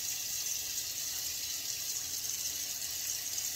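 A bathroom sink tap runs steadily as a hand is wet under the stream, a constant close hiss of flowing water with no talk.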